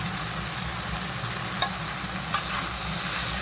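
Tomatoes with salt being stirred into vegetables frying in a pan for a beans dish, giving a steady close sizzle with soft scraping stir sounds and a couple of brief utensil knocks, no talk.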